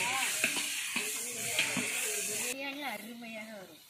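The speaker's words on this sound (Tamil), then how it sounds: "வெங்காயம் நல்லா வதங்கட்டும்," Onions sautéing in a pan give a soft, continuous sizzle and hiss while someone talks over them for most of the stretch.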